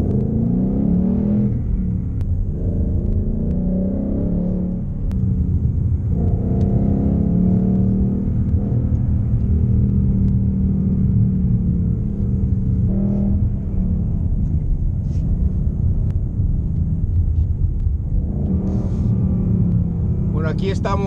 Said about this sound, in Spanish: Aquí estamos experimentando este Ford Mustang GT 2018 con la gran potencia de este motor